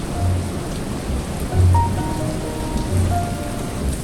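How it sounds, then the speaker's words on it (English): Heavy rain pours down steadily outside a cottage, a dense, close hiss of drops hitting surfaces, with occasional low rumbles swelling underneath and no voices. "that rain's getting really strong now"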